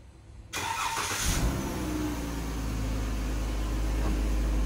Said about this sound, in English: Does have a factory installed remote starter.